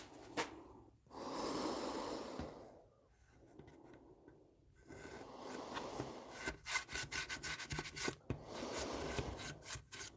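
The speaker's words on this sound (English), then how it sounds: "I can remove more paint with that chisel than I can with the sandpaper." A chisel scrapes paint off a wooden cabinet door in repeated rasping strokes, long gritty scrapes alternating with shorter rapid ones, close and fairly loud with brief pauses between passes.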